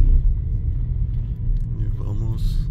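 Low, steady road rumble inside a Volkswagen Virtus Exclusive sedan as it rolls over a street drainage dip, with a brief voice near the end.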